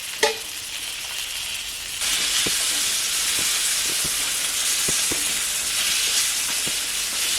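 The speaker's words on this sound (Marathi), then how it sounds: "तिकडे डायरेक्ट जे आपलं कोटिंग बनवलेलं आहे त्याच्यामध्ये आपण टाकतो आहे आणि ते फ्राय करायचे" Coated mackerel pieces fry in hot oil on a wood-fired village stove, a steady close sizzle and hiss after a brief clunk at the start, with scattered small pops and crackles over the bubbling, and no voices.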